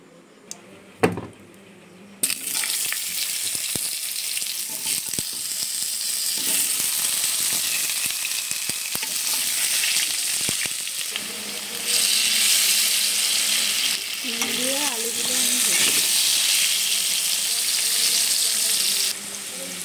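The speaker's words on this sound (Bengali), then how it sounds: "আজকে আমি রান্না করব খাসির মাংসের ঝোল। তার জন্য প্রথমে আমি আলুগুলো ভেজে নেব।" Potatoes frying in hot oil for a Bengali mutton curry give off a steady, fairly quiet sizzling hiss that runs almost the whole time after a brief clatter, with a faint voice briefly audible.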